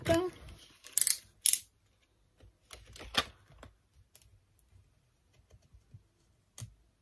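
Scissors cutting a paper budget envelope, giving a few sharp snips and crisp paper rustles close by. Faint clicks and small handling noises follow in a quiet room.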